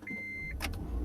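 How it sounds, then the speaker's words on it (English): A 2010 Honda Insight starting up: a steady electronic chime sounds first, then a brief burst of starter cranking as the engine catches, close by inside the car. "So starting up the Insight is as basic as any other car."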